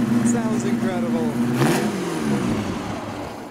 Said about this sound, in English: the noise of this Bugatti sounds incredible